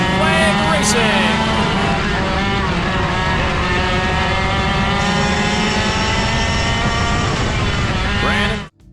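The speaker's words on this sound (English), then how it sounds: "Brandon Thorkelson, Brandon Anderson, leading us to Green Flag Racing" A pack of race cars roars off at a green flag start on a track, engines blaring loud and continuous with layered revving that holds for several seconds before cutting off abruptly.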